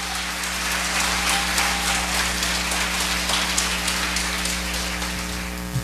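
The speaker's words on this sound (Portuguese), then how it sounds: "Dá uma salva de palmas para o Senhor Deus." A church congregation claps steadily during a worship service, a dense, even patter of many hands over a constant low electrical hum.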